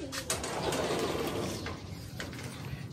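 Male breeder pigeons cooing softly with low, throaty murmurs, fairly close, against faint background noise and no talk.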